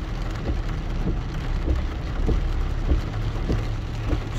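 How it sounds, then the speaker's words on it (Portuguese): Steady rain patters on a beach with a soft, continuous hiss and faint low rumbles, heard outdoors without voices. "com chuva, tá? Dia chuvoso."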